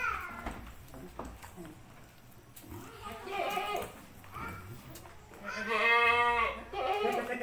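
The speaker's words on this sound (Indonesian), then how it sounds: "kepala hitam, ciri khas kambing Etawa atau PE" Etawa goats bleat in a pen: a few wavering calls at close range, the loudest near the end, set against low background noise.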